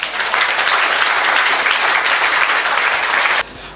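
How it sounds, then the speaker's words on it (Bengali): An audience at a seminar applauds loudly, a dense, sustained clatter of many hands that cuts off abruptly near the end. "একবার জোর করে হাততালি হোক না।"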